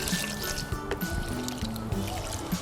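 Swiss chard plants being watered in a hot garden, liquid trickling and splashing onto growing media in steady pours, with faint background voices.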